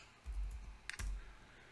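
A command is typed on a computer keyboard in a few soft, quick key clicks, faint and close, with no talk.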